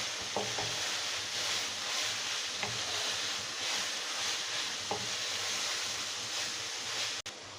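Garlic and ginger fry in a pan over a full flame, giving a steady, dense sizzle with a few faint stirring knocks and no talk.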